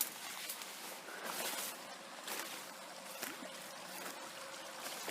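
A river in the woods runs with a steady broadband wash of flowing water, fairly faint and continuous, with no voices over it.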